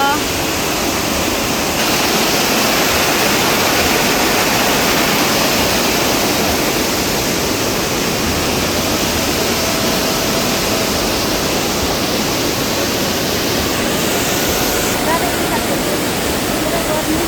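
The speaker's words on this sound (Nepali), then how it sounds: "हेर्नुहोस् त साथीहरू खोला यस्तो ठुलो छ" Loud, constant rushing water roars without pause throughout, a dense steady wash of river noise.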